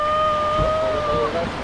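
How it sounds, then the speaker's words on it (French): Sea waves wash and rush around a kayak setting out at El Nido, a steady broadband surge with wind buffeting the microphone and a brief high whooping cry over the water. "Les premières vagues!"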